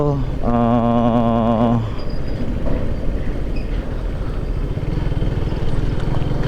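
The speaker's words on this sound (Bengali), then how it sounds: "তো আমার একটু সাবধানের সাথে বাইকটা রাইড করতে হবে।" A motorcycle rides along a highway near a toll area around the Magna Bridge, with a steady rumbling engine and road noise close to the rider; a loud horn-like tonal blast from nearby traffic sounds early on.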